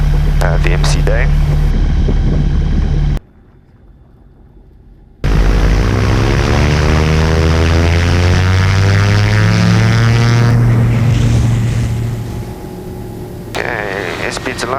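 A Sling 4 light aircraft's propeller engine drones loudly through a takeoff roll, its pitch climbing steadily as speed builds, with a brief muffled dropout partway and a pilot speaking over the engine noise.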